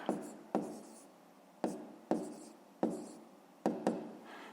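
Pen or marker writing math working on paper or a board during a 5th-grade fraction lesson, six distinct scratchy strokes in an uneven rhythm, close and fairly quiet, with no talking.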